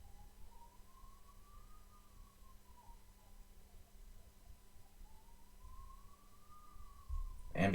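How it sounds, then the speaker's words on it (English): An ambulance siren wails faintly in the distance with slow rising and falling tones under steady low background noise, with a louder burst of sound at the very end. "Ambulance."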